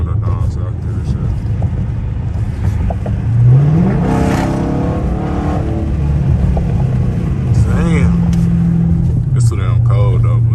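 A straight-piped 345 Hemi Dodge Charger R/T roars on the highway, its engine note rising and falling through hard pulls, loud and close from inside the car with the window down, while someone talks over it.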